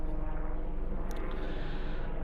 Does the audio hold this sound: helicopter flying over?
yes